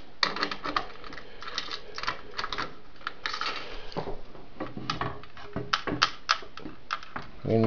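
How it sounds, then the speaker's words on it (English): Keys on a 1960s Western Electric three-slot pay phone being pressed, giving a quick irregular run of sharp, close plastic-and-metal clicks with brief pauses between them. "Again, these are functioning keys."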